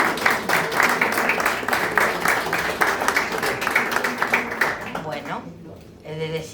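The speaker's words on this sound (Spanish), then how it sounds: "Un aplauso para él. ¡Bravo!" Dense applause from a concert audience after Ravel's Boléro fills most of the stretch, then thins out and fades near the end as a voice begins.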